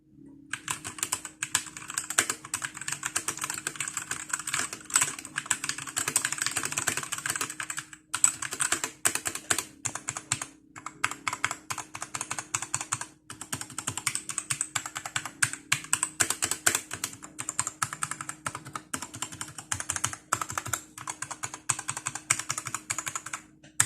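Fast, continuous typing on a Royal Kludge RK61 mechanical keyboard with linear red switches, a dense clatter of light keystrokes that runs close and steady, broken only by a few short pauses.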